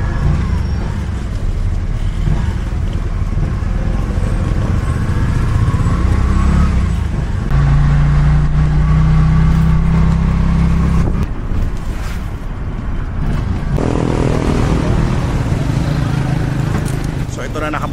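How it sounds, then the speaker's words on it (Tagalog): Motorcycle tricycle riding through Dumaguete city traffic in rainy weather, a loud continuous engine drone and road rumble with passing-vehicle noise and a steady low hum, close and unbroken. "So ito na, nakababa na ako ng tricycle."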